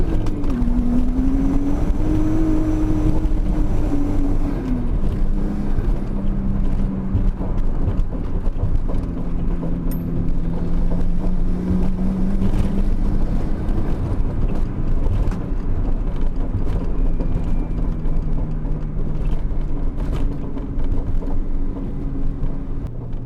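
A Nissan 240SX engine gives a loud, continuous drone that rises and falls in pitch as it climbs through the revs, steady throughout with no talking.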